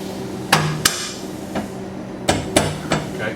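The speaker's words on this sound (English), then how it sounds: "pound it on a little, just like that, a rubber mallet" A rubber mallet pounds a car's lower stress bar into place, giving six sharp, close thuds in an uneven rhythm, some struck in quick pairs, over a faint background hum.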